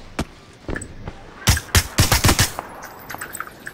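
Bursts of gunfire from a video game: a few scattered shots, then a rapid close string of loud reports, trailing off into lighter scattered shots.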